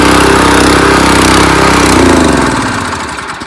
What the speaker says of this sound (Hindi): जैसा कि आपने देखा एक सिंगल किक में ही हमारी मशीन स्टार्ट हो गई